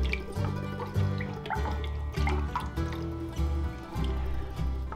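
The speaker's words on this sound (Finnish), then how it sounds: "Pistää vähän vielä tuota vettä lisää." Water poured into a meatball casserole dish, a steady liquid trickle and drip running under a repeating low, rhythmic background tone for several seconds, fairly close.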